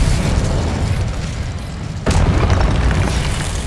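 Confringo spell explosion during combat in the game Hogwarts Legacy, a sudden loud blast midway that cuts through a dense, rumbling roar of ongoing battle noise.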